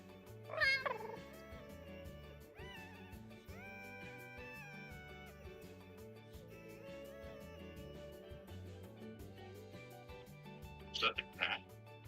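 A cat meows faintly in the distance near the start and again near the end, heard under a continuous quiet musical background in a home streaming setup.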